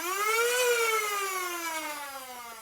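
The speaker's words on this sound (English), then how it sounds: "you push it forward, you can rev the blaster" Dart Zone Vector Pro bullpup flywheel blaster revving, a loud, close electric whine that rises quickly and then slowly winds down in pitch as the flywheels spin.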